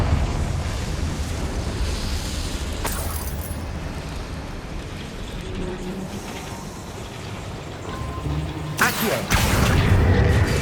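Confringo blasting spell going off in Hogwarts Legacy: a sharp burst lands near the end over steady rumbling game ambience, with a fainter crack earlier.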